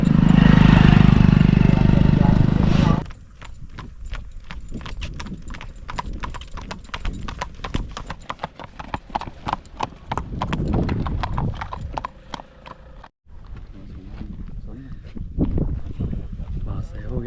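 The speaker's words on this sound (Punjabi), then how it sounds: "ਘੋੜੀਆਂ ਆਉਂਦੀਆਂ" Several mares walk past on a rural path, their hooves clip-clopping in a quick, dense, uneven rhythm close by, after a loud opening burst; a voice speaks briefly.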